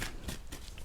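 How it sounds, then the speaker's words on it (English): Tarot cards are shuffled by hand in a few quick, soft riffling bursts, close and quiet, with no talk over them. "I've been shuffling for a while."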